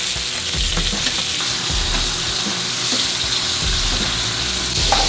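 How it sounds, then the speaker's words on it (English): A steak sizzles steadily in a hot pan while a spoon repeatedly scrapes and bastes it, loud and close, with continuous crackling throughout. "you want to have a spoon at hand and you want to start basting your steak"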